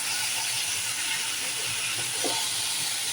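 Frying for a homemade sweet pickle produces a steady, close, continuous hiss that holds evenly from start to end, with no voices.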